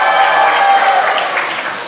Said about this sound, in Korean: 이때 박수 치는 거지. 세게 좀 쳐라.